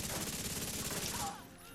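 A rapid-firing LMG in The Division 2 shooter game rattles out a fast continuous burst of gunfire, loud and dense, that trails off just before the end.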